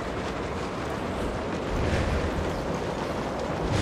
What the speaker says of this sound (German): da gehen viele Zäune kaputt